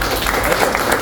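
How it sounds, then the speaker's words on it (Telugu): A small group of people claps steadily in a room at a mobile phone repair training shop, a brief dense burst of close applause. "1 సెకండ్ క్లాప్స్"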